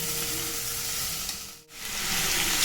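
Oil sizzles and fries steadily in a kadhai before brinjal goes in, a continuous close hiss with a brief dip in the middle.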